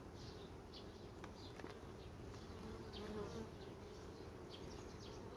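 Honey bees swarming a beehive frame laden with pollen and honey, a dense continuous buzz close to the microphone with individual bees droning past, steady and unbroken for the whole stretch.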